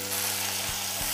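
Ginger, garlic and shallots sautéing in ghee, a steady close sizzle with a faint mechanical hum and a couple of soft stir knocks, no talking.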